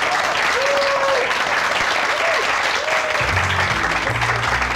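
Steady applause from a group in a Turkish TV drama scene, celebrating Kerem's success, with a few brief voices rising over the clapping and low murmurs near the end.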